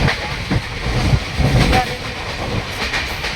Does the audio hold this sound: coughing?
no